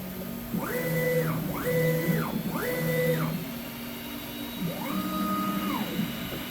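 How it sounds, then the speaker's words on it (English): A Refinecolor RF-6090 printer running a nozzle check print whirs as its carriage motor sweeps back and forth, three quick rising-and-falling passes followed by a slower fourth, steady and close. "I'm going to go ahead and run the nozzle again so you can see the white."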